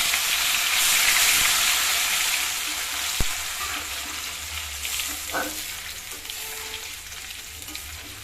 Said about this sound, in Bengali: ইলিশ মাছের মাথা এটা ভেজে নিই ফোড়ন আর শুকনো লঙ্কা দিয়ে দিয়েছি তেলে দিয়ে দিলাম